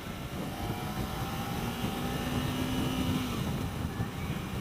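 A 2015 Kawasaki Ninja 300 engine idling at low RPM, its exhaust giving a steady, smooth, low hum with a faint rising tone, continuous and moderately loud with wind noise and no talking.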